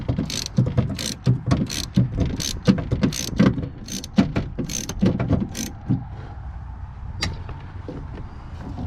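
A hand ratchet clicks in repeated close bursts while loosening screws on a 2007 Chevrolet Impala window regulator, the rhythmic strokes slowing and fading toward the end.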